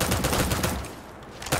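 Rapid gunfire in the Starfield video game, a dense burst of shots that briefly drops off and then resumes with another loud crack at the end, with no talking.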